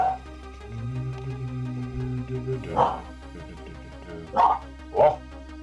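A dog barks and yips several times, sharp separate bursts spaced a second or so apart, near and fairly loud over a steady background tone.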